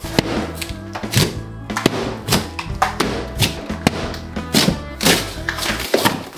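A series of dull, heavy thunks and knocks as a hammer strikes chocolate repeatedly at an uneven pace, with a cracking quality like something hard breaking under blows.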